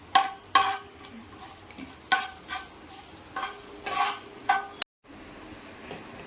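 Fenugreek seeds and cumin frying in a pan as a spoon stirs and scrapes, giving repeated clattering strokes over a low sizzle, cut off by a brief silence near the end.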